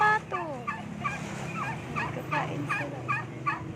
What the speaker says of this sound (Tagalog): Nakakulong yung pabo at pato.